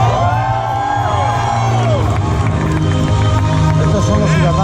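A large, loud crowd of fans at a live event for the Aquaman film cheers, screams and whoops continuously, with music playing underneath throughout.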